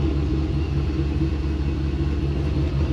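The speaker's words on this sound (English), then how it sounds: "You hear it stumble when we first start it." A boosted Pontiac GTO engine idles while warming up after starting, a steady low throbbing rumble with an even, slightly uneven pulse, close and continuous with no talk.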